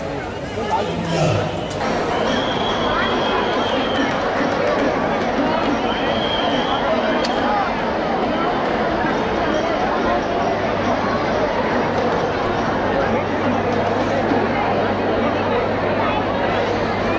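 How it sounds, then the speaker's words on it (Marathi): Large festival crowd at a Durga fair in Thane, a steady dense babble of many voices filling the space continuously, with no single voice standing out. "मजबूत गर्दी आहे मजबूत गर्दी"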